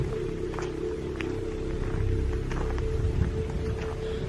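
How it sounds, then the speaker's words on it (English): Rain falling in a forest at night, a steady close hiss of drops on leaves and ground with occasional louder taps, continuous and fairly loud throughout. "it started just with raining"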